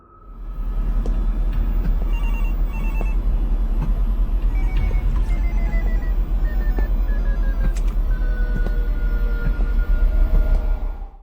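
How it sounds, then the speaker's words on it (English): In a video game maze, a ringing phone warps and wavers as it dies: faint tones drift and bend downward over a loud, continuous low rumble, steady throughout and fading slightly at the end. "As he continues through the maze, the ringing starts to warp. The phone is dying."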